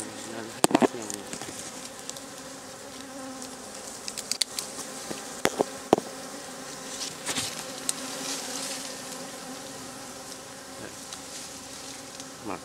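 Dwarf honeybees buzz around a hive as it is harvested, a dense continuous swarm hum close to the mic, broken by scattered sharp knocks and handling clicks.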